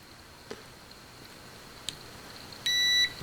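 Continuity tester on an X210 racing drone flight board gives a short high electronic beep near the end, after two faint ticks of probe contact, in a quiet room.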